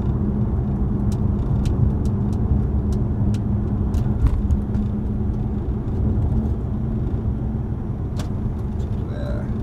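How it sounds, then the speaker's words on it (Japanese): A Maserati's engine hums at steady, sustained revs as the car drives along, a constant loud drone with road rumble throughout and occasional faint clicks on top. "サウンド、たまにはね、こう回転回せんとね、いいね。"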